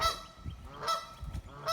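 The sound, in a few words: geese honking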